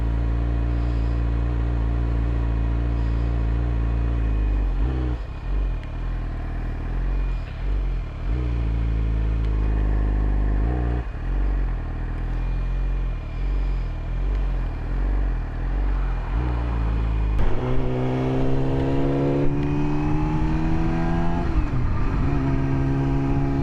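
A 2017 Yamaha R6 motorcycle with an Akrapovic exhaust being ridden, its engine droning steadily with repeated dips and swells as the throttle is worked, then rising into a sharper climbing rev near the end, close and loud with no talk.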